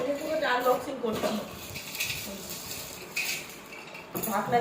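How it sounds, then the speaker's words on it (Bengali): Metal clinks and knocks as a new pressure cooker and its lid are handled while being unboxed in a home, with a voice talking over the rattling throughout. "মা এদিকে আসো, তোমার প্রেশার কুকার আনবক্সিং করছি"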